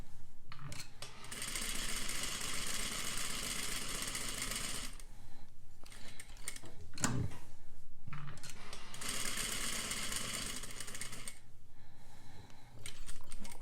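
A sewing machine runs in long continuous bursts of fast, even stitching, stopping briefly between runs, with nearby handling noises in the pauses.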